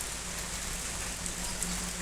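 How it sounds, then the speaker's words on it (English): Steady rain falls throughout, a dense even hiss with a faint low hum underneath and no voices. "because it's raining"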